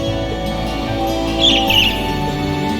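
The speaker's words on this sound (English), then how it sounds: "There was just a strange bird on that lamppost over there, that's all." A strange bird perched on a lamppost in Trails of Cold Steel gives a short burst of high chirps midway through, set against a steady layer of background music.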